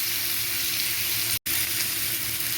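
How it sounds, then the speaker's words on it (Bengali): Mango chutney sizzles loudly as it is sautéed with salt in a pan, a steady close frying hiss with one brief break, no voices. "আমি আমের সাথে ভালো করে কষিয়ে নেব।"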